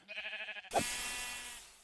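A sheep in the Minecraft video game gives a single wavering bleat, followed by a sharp hit and a fading noisy burst, fairly close and clear with no talking.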